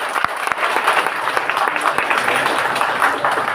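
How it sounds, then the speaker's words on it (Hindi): An audience applauds warmly, many hands clapping in a dense, steady burst that carries through the whole stretch, loud and close, with faint voices mixed in. "मैं चाहता हूं इतने खूबसूरत काम के लिए एक जोरदार ताली।"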